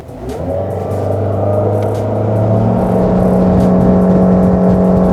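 A fishing boat's motor on Lake of the Woods revs up and settles into a loud, steady droning whine that continues without a break.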